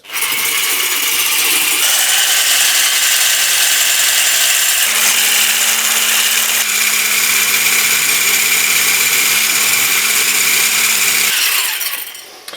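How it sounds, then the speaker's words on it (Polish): A loud, steady motorized whir of a blender whipping chickpea water into foam runs continuously for about eleven seconds, shifting pitch slightly partway through, then cuts off. "I to trzeba uklepać blenderem na taką pianę"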